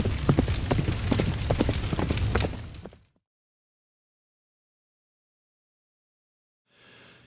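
Horse hooves clip-clopping in a rapid, galloping rhythm for about three seconds, close and loud, then cutting off to silence before a faint hiss returns.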